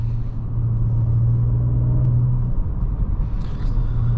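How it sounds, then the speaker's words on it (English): A 2023 Audi S5 Prestige engine hums steadily with a low rumble while driving, close and continuous, with faint road noise underneath. "Audi has absolutely nailed the way this car sounds"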